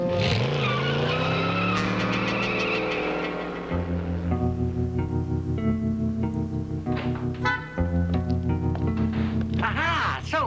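A car screeches away in a 1960s sitcom, loud squealing tires with sliding, tonal whines that rise and fall over about ten seconds, mixed with brassy music.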